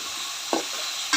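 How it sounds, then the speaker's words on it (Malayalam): Tomatoes fry in a pan for a toddy-shop style country chicken curry, a steady sizzle under two short scraping stirs of a spoon. "നന്നായിട്ടൊന്ന് ഫ്രൈ ആയി വരട്ടെ. തക്കാളിയൊക്കെ നന്നായി വെന്ത് വരട്ടെ."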